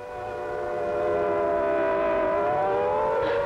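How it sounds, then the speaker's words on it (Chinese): A loud air-raid warning siren wails steadily with a slowly shifting pitch, swelling over the first second and then holding at full strength, with no voices over it. "而家紧急警报啊"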